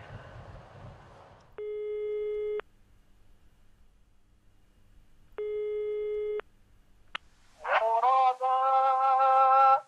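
A telephone line rings out with two long, evenly spaced electronic tones separated by silence, followed by a short click and then a bright synthesized melodic chime as an answering machine picks up; a faint muffled sound precedes the first tone.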